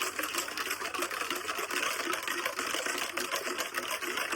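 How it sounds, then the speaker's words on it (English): Loose nuts and bolts rattle and clatter with vinegar sloshing inside an old pressure washer tank being shaken, a dense, continuous metallic jangle, close and loud, with no voices. "you got your random nuts and bolts in there and your cleaning solution, in this case it's vinegar, and then we just shake it"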